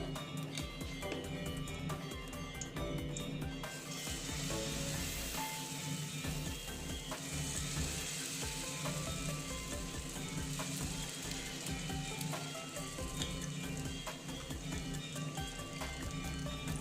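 Mung dal batter sizzling in a lightly oiled pan, a steady dense frying hiss that carries on without a break, with faint clinks over it and no talk.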